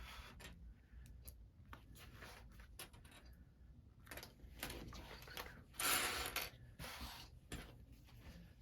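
Scissors snip along the edges of a fabric bag piece, giving a series of short, crisp clipping sounds in irregular rhythm, close by and moderately quiet, with no talking.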